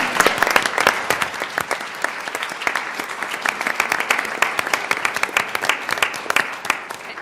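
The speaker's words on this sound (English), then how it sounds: "You may applaud." An audience at a League of Women Voters candidates forum in Elmhurst breaks into sustained applause, dense overlapping clapping from a full room that continues steadily without fading.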